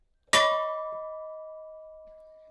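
A single memorial bell for the Edmund Fitzgerald's lost crew is struck once, ringing out clearly with a bright metallic attack and a long, slowly fading tone.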